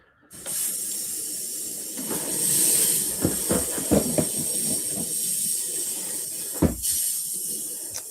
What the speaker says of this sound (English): Blast out my airbrush a couple of times.